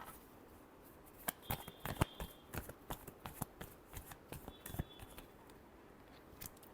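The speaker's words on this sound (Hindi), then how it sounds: "Last shuffle." Tarot cards being shuffled by hand, a quick run of crisp riffling flicks and soft slaps, close and fairly quiet with no talking.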